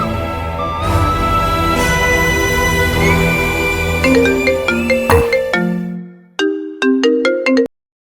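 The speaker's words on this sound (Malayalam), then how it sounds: "ഗിരിയുടെ ഒരു സമാധാനത്തിനു വേണ്ടി വിളിക്ക്" A phone ringtone plays after a call is placed, a loud bright melodic tune of repeated chiming notes that cuts off abruptly near the end, with no talking.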